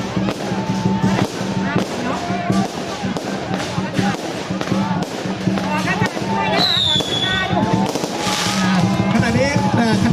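Fireworks go off at a Loy Krathong temple fair at Wat Chanthuek in Pak Chong, with dense crackling bursts and pops running continuously under loud crowd voices and music.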